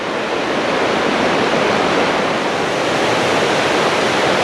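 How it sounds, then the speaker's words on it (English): The River Conwy in Snowdonia rushes past close by, a loud, steady broadband roar of fast water that stays even throughout, with no voices. "So this is the river Conwy"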